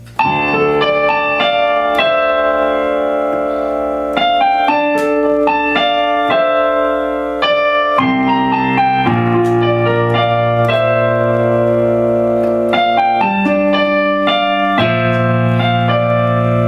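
Piano plays a section of a song: steady sustained chords and a bass line moving through several changes over about seventeen seconds, close, even in loudness, with no talking.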